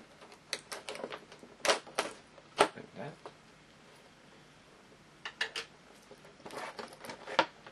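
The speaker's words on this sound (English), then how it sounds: "So I'm going to open it this way, just like I normally do with all of my Little Pony toys." Plastic and cardboard packaging of a My Little Pony Fashion Style Princess Cadance figure being opened by hand, with close crinkling, tearing and clicking bursts at the start and again near the end, a quiet gap between them.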